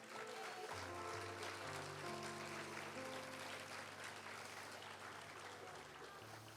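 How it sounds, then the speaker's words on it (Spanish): Soft, distant applause from a church congregation during a Spanish-language worship service, with sustained keyboard or organ chords ringing steadily underneath the clapping. "Un aplauso al Señor."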